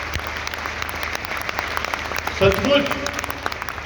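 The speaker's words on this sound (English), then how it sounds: "Let's have a big clap for each one of you." An audience at the closing ceremony of the 10th WAC claps steadily in a hall, a dense patter running through the whole stretch while someone speaks over it.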